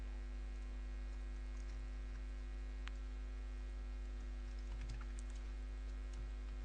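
Sparse, faint key clicks from typing on a computer keyboard come in scattered bursts over a steady electrical hum in a quiet room, with no talking.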